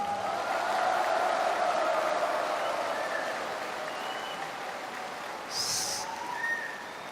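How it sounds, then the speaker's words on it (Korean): An audience applauds at a political party's founding convention, a broad wash of clapping that swells early and then tapers gradually, with a few faint squeaks over it. "박수 한번 주십시기 바랍니다"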